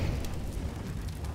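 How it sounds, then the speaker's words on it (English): An incendiary grenade burns in a multiplayer shooter game, a short rushing, crackling roar of fire at steady loudness with no speech. "Motherfucker throws an incendiary grenade at me"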